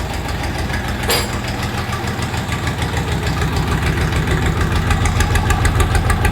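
The KM385VT diesel engine of a Kentavr 244 Chinese mini tractor with 170 engine hours, just after a cylinder head retorque and valve check, runs nearby at a loud, steady idle with a rhythmic knocking pulse throughout.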